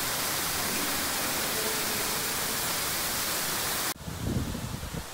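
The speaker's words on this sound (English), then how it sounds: "Here's another look at some of the beautiful waterfalls." Waterfalls at Volcano Bay water park in Orlando, Florida pour down in a loud, continuous broadband rush that cuts suddenly to a lower, rumbling wash near the end, with no voices.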